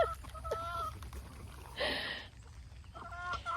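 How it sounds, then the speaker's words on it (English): Hens clucking and calling in a backyard farm coop, a few short harmonic clucks near the start and end with a brief louder squawk in the middle, over low outdoor background noise. "Chickens are behind me"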